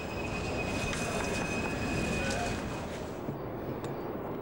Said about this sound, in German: Der Zug passiert auf dem Weg in Richtung Lehrter Stadtbahnhof die ehemalige Grenze.